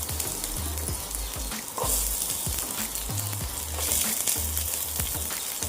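Chopped onion frying in oil with cumin for stuffed masala okra makes a steady sizzle with repeated low stirring scrapes and knocks from the pan, close and clear with no talk.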